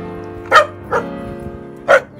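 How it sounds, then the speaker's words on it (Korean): A puppy on Jeju Island gives three short, loud barks close by, spaced irregularly over a quiet background hum. "얘는 강아지 모카라고 하고요"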